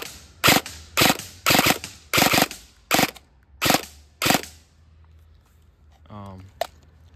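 An airsoft gun fitted with a high-capacity magazine fires sharp, close bursts in quick succession, with several snappy cracks coming one after another over about four seconds, followed by a brief mechanical rattle.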